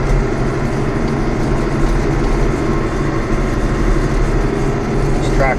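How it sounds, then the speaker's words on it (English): A 1978 International 1086 tractor with a loader runs steadily at close range while hauling second-cut bales, a constant low engine drone with an even, unbroken rumble throughout. "This tractor is an International 1086, the International loader, 1978, I think."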